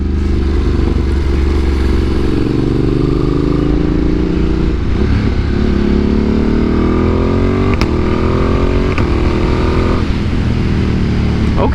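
A 2025 Ducati Panigale V2 revs hard on the move, its engine pitch climbing and dropping sharply through rapid quick-shifter gear changes, loud and close with steady wind rush.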